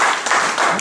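A church congregation applauds during a sermon, producing a short burst of dense, fairly loud clapping that pulses in a few quick waves.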